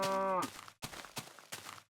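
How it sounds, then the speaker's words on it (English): A single cow gives one loud, drawn-out moo at the start, followed by quieter rumbling outdoor sounds and thuds for the rest of the moment. "Cows. We got cows."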